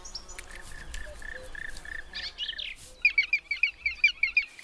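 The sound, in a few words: black woodpecker nestlings calling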